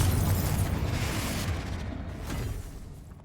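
Confringo fire spell blast in Hogwarts Legacy, a loud sustained fiery explosion with a broad rumbling roar that slowly fades, no talking over it.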